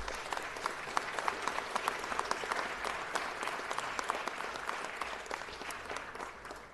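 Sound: audience applause at city council meeting

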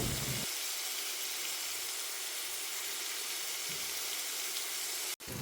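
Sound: shallots sautéing in a pan

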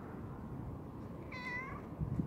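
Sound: cat meowing

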